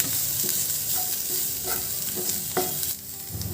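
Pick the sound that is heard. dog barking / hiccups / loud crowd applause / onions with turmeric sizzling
onions with turmeric sizzling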